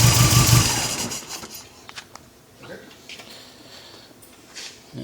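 A Triumph TR3 engine with a newly installed Triumph Rescue alternator kit runs loud and close for about a second, then cuts off abruptly, leaving only faint rustles and small clicks.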